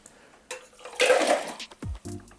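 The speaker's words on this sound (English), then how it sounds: "You don't want to actually shake it up because it's going to create pressure and that's not good. So just stir it up." Ice and liquid in a Moscow Mule cocktail being stirred, a short burst of clinking and sloshing at close range that rises loud in the middle, then a few separate knocks and a low tonal ring at the end.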